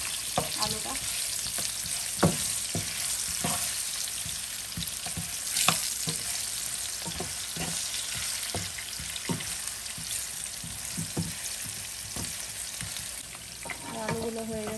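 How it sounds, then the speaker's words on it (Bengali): Potatoes fry in a pan, a constant close sizzle broken by scattered scraping and clinking stirs, with a short burst of clatter at the end. "আলুগুলো হয়ে গেছে ভাজা, তুলে নিই।"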